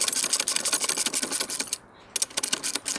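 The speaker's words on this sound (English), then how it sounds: "You could do this with the bar wrench, but it's a little quicker with a ratchet." A ratchet runs a nut down a 1/2 inch bolt while assembling a Granberg Alaskan chainsaw mill, a rapid close clicking that pauses briefly and then resumes in short bursts.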